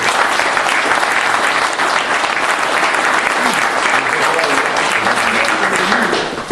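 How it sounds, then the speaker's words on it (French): Loud, steady applause from an audience at a hunting-dog pack competition in Amplepuis, continuous dense clapping lasting throughout without pause, close and full. "donc on peut les applaudir tous."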